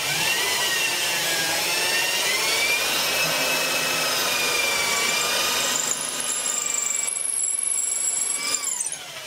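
A power drill bores a hole in wood while making a traditional hand-built rabbet plane, a loud, sustained whining whir close by that shifts pitch and then winds down near the end.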